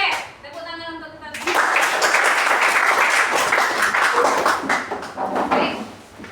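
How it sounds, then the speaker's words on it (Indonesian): Young pupils in a classroom break into lively applause after a short spoken cue, a dense burst of clapping that swells, holds for several seconds and then tapers. "tepuk tangan untuk kita."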